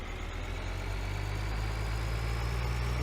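A tractor engine in a farming game idles with a steady low rumble, continuous and close, with no voices.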